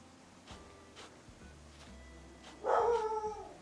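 A dog in Animal Crossing New Horizons gives a few short barks and yips, spaced apart at first, then a louder, sustained howl-like call near the end.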